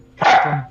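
A single short, loud dog bark, close by and sharp, with a brief voiced onset and a lower tail as it fades.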